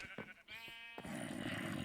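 A gray sheep in a farm video game bleats in a wavering, nasal cry, close and clear, followed by a brief noisy rustle of farm ambience.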